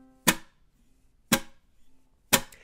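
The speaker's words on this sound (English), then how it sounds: "I'm going to use my middle and ring fingers to strike the strings as the palm mutes" Three crisp, evenly spaced chunk strums on a ukulele in a flamenco-inspired style, each struck with the middle and ring fingers and instantly choked by a palm mute, leaving short percussive thwacks with no ringing tone between them.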